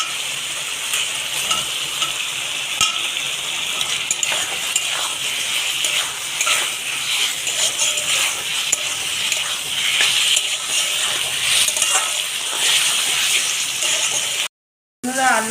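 Fried potatoes are tipped into a sizzling spice paste for a rohu fish curry with cauliflower, a continuous bright frying hiss with stirring scrapes and occasional clinks, followed by a brief gap and a short voice.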